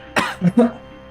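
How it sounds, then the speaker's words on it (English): Three quick coughs in a row, close and fairly loud, each a short harsh burst with brief gaps between. "can cough on demand now"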